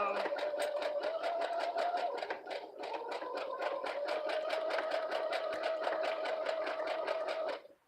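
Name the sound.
sewing machine stitching a fabric pouch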